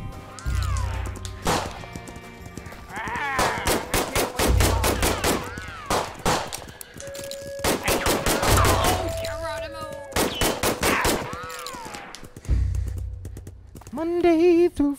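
Rapid bursts of shotgun fire and galloping hooves alternate in the Westworld VR game set in the Badlands, with repeated sharp blasts in quick volleys over a busy game soundtrack.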